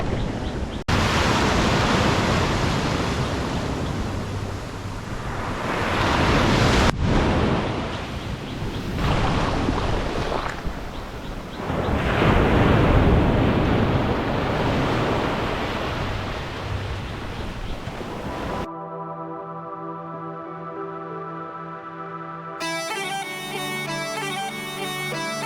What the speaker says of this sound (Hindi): यहाँ तक लहरें आती हैं सारी की सारी